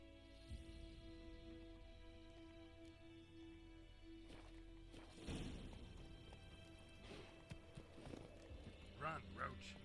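Roach the horse galloping in The Witcher 3: Wild Hunt, a faint, rapid hoof rhythm beneath game music and ambience, with a louder thudding burst partway through and a brief horse cry near the end.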